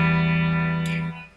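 Electric guitar with the coil split switch engaged gives a thin single-coil tone: one sustained, effect-coloured chord rings steadily, then fades away near the end.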